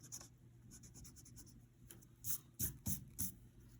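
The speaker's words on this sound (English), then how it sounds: "So I'm going to have to erase a few lines here." Pencil lines being erased on paper during a technical drawing, soft scratchy rubbing that builds into several quick, louder back-and-forth strokes near the end, close up.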